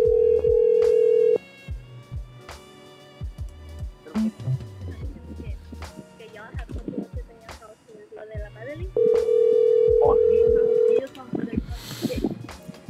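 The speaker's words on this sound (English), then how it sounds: "Sounds like her phone's getting pretty busy over there." A telephone busy signal sounds as steady tone bursts on a call, one long stretch at the start and another near the end, with people talking over the line in between.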